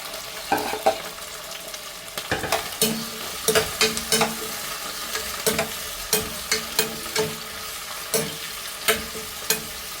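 Tomatoes and onions fry in a pan, a steady sizzle broken by repeated sharp scrapes and clinks of a spoon stirring, close and with no talking.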